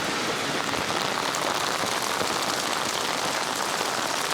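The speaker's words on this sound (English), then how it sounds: "Just dancing in this kind of rain" Heavy rain pours down steadily and loudly on an outdoor trip in Numazu, Japan, a dense unbroken hiss of drops hitting surfaces with no voices over it.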